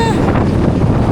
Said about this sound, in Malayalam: കാറ്റടിച്ചിട്ടേ രക്ഷയില്ല.